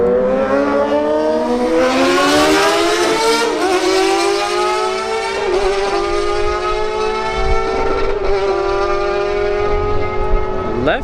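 A Suzuki GSX-R1000 motorcycle roars down a drag strip at full throttle, a loud sustained high-revving engine whine with rising pitch and brief dips at gear shifts, steady and close throughout.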